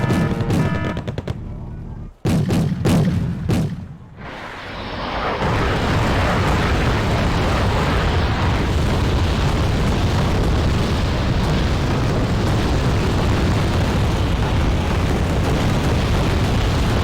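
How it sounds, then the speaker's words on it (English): 25 millimeter guns in Wargame: Red Dragon fire hard, rapid bursts, then heavy sustained roaring gunfire and explosions. The din is loud, dense and continuous for most of the stretch. "Yeah, those 25 millimeters are just continuing to pound."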